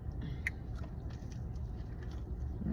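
Crunchy Raising Cane's chicken tenders are chewed up close, with a sharp bite crunch followed by steady, soft mastication and faint background noise, no talking over it.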